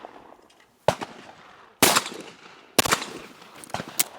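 Three sharp shotgun blasts at a sporting clays course, spaced about a second apart, loud and close, each with a short echoing tail and a faint fourth pop near the end.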